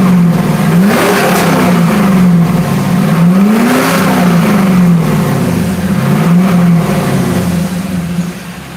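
Pontiac Trans Am V8 revving, loud and close, a deep throbbing idle that rises and falls in repeated swells of throttle before easing off at the end.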